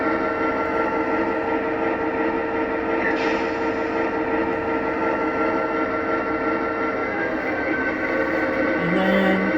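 LGB F7 model locomotive with a Zimo sound decoder in shunting mode, a steady, unchanging diesel engine drone held at one constant pitch, loud and continuous.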